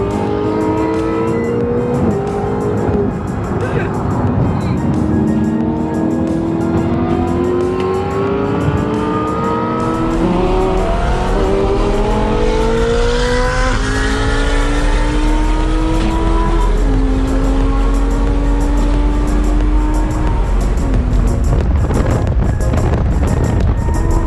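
A rebuilt Ferrari 458 supercar engine roars up close. It rises through repeated revving climbs and gear shifts, each upward sweep loud and continuous, and ends in a heavy sustained rumble.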